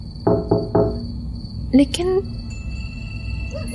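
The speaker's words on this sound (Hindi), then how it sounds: "कोई नॉक कर रहा है।" Three quick knocks on a window-like surface, fairly close, followed by a brief squeak and faint background hum.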